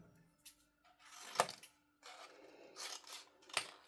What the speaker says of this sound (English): Right, I'm going to cut it there.